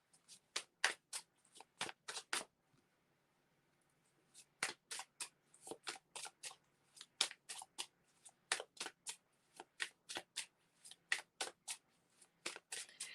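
Tarot cards shuffled by hand in close, crisp riffling bursts, two runs separated by a short pause, then steady repeated flicks without talk.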